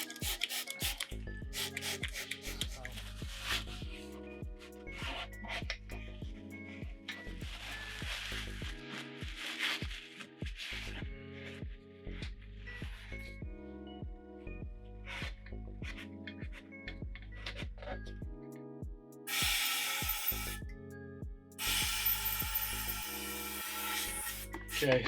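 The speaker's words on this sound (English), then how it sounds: "I'm going to spray some alcohol in it and clean it out with a rag" Alcohol sprayed into motorcycle fork lowers, then wiped out with a rag, giving close, quiet rubbing and scrubbing strokes in an uneven rhythm, with bursts of hissing spray near the end.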